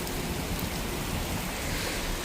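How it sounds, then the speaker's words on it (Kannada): A heavy downpour drums steadily on surfaces nearby, a thick unbroken hiss of rain lasting throughout with no voices. "ಎಷ್ಟು ಜೋರು ಮಳೆ ಬರ್ತೈತೆ."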